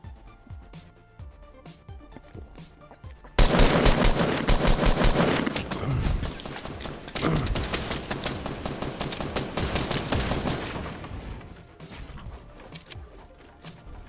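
Rapid automatic gunfire from the Fortnite video game erupts in dense, loud bursts of crackling shots, dropping back to scattered sporadic rounds with no talking.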